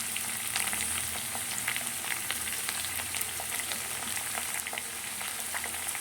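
Chopped carrot and beans sauté in a hot oil tempering for vermicelli upma, a close, continuous sizzle with small pops and light stirring, no voices.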